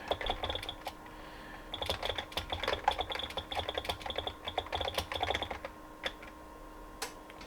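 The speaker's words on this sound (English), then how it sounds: "So it makes like a chirping noise when you type" A Compaq Portable III from 1987 gives an emulated keyboard chirp while someone types, a rapid irregular run of small high clicking chirps with brief pauses, close and clear, with no talking.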